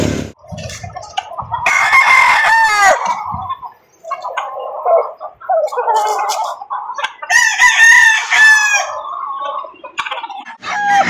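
Loud roosters crow close by, several drawn-out calls overlapping with sharp clucking in between, no talking.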